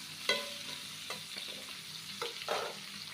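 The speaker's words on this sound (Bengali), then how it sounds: "তো সবগুলো ভেজে নিব।" Chopped vegetables, including eggplant, fry in a pan with a steady sizzle, broken by several sharp stirring scrapes and clatters of a utensil, close and alone without talk.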